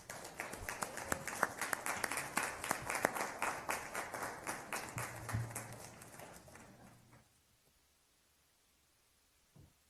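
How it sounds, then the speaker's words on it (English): Audience at an Atlanta school board meeting applauds in a dense burst of clapping that builds, holds for several seconds, then fades away into near silence. "Let's give them a round of applause."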